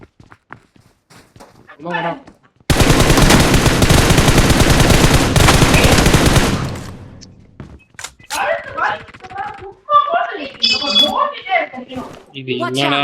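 Gunfire in the mobile battle royale game BGMI, a loud sustained burst of automatic fire lasting several seconds, followed by chatter from players talking over the game.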